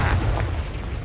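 A Descendo spell cast in the Hogwarts Legacy video game lands as a deep, booming impact that swells at once and rumbles on for about a second, heavy and loud in the low end.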